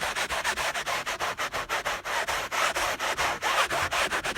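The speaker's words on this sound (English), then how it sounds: "and we just scrub it in." Cleaner scrubbed by hand into a car headliner, a fast rhythmic brushing rasp of about four to five strokes per second, close and steady with no voices.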